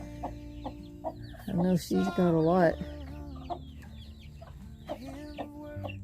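Backyard hens in a garden pen cluck in short, repeated calls near the microphone, with a brief stretch of talking in the middle.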